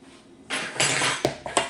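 Courgette pieces go into a tart dish in a home kitchen, producing a few quick clinks and clatters against the dish after a quiet moment.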